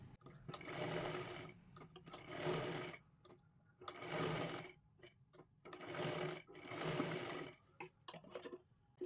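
A sewing machine stitches layered blouse-fabric pieces into a square seam, running in short bursts of rapid mechanical whirring separated by brief pauses, close and fairly quiet.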